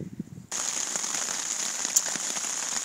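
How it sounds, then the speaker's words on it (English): Steady rain falls at night on a campsite along the Appalachian Trail near Blood Mountain, a constant hiss of drops starting abruptly after a brief quieter moment, with an occasional louder drop. "Been raining since, well, as soon as it got dark, it started raining."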